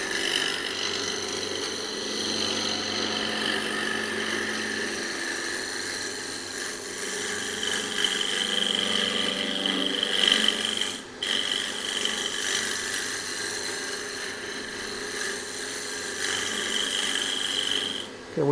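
A wood lathe spins at high RPM while a tool cuts an inside-out ornament with a cross, giving a steady rasping, scraping hiss close by that continues throughout with small variations.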